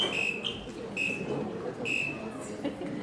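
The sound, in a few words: quiz buzzers being tested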